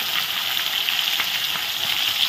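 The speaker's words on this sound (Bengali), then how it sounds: "দেখো সবগুলো পেটি এখন উল্টিয়ে দিলাম। এখন এগুলো ভাজা করে নেব।" Rui fish belly pieces frying in hot oil, giving a dense, continuous close sizzle with a constant level and no talk.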